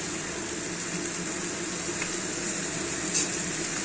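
Drumstick flower curry cooks in a pan over raised gas heat, giving a steady close sizzle with faint scraping as it is stirred, and one brief clink near the end; nobody speaks.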